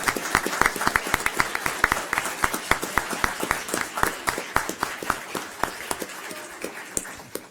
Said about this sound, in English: let's give a round of applause to our girls soccer team